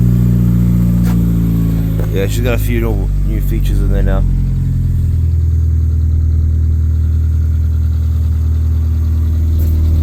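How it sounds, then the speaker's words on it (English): A car engine runs steadily on a cold morning at about 7 degrees Celsius, a low constant rumble with a brief rev near the start, while someone talks briefly over it. "Now, let's start the car up."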